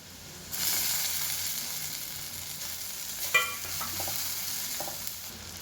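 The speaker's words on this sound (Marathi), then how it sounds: "टोमॅटो असा मॅश होईल इतपत परतून घ्यायचा" Tomatoes sauté in a pan for a spiced green bean dish. A steady sizzle starts after a short quiet moment, and a few spatula scrapes and taps sound as the soft tomato is mashed.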